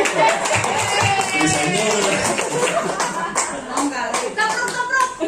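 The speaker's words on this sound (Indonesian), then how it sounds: "Tepuk tangan semuanya." Applause from an audience at a school in-house teacher training session on the Merdeka curriculum, dense clapping filling the room steadily, with a voice briefly speaking over it and some chuckling.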